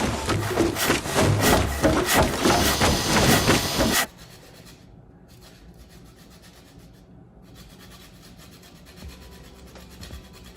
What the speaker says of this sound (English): Just to zest 1/2 a lemon.